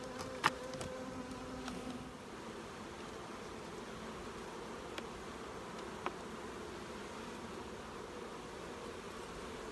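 Honeybees hum steadily in an open hive during an inspection of the brood nest, a soft continuous close drone with a few faint clicks and taps from handling and no talking.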